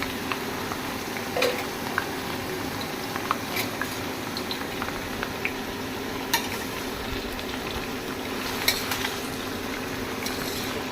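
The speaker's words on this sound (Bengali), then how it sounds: "পটলগুলো অ্যাড করে হালকাভাবে একটু ভেজে নেব" Sliced pointed gourd fries in hot mustard oil, giving a steady, even sizzle and bubble throughout, with occasional light clinks of a utensil against the pan.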